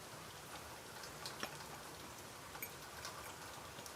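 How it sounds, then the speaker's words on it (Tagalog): Rain falling during a sun shower, a faint, steady patter of light drops with a few soft ticks, alone and without talk. "Maaraw, pero umuulan."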